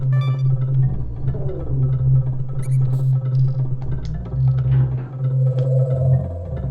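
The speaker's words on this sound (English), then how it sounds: "That's the sound of a warp barrel." Warp barrel sound from a Donkey Kong Country platform game level, a steady low droning tone layered with scattered chirps and glittering effects, continuous and fairly loud with no talk.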